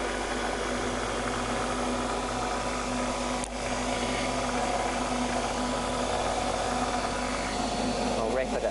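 Holke F10V turret mill table running on medium power feed, a steady mechanical whir and hum with constant broadband noise throughout, one brief click midway.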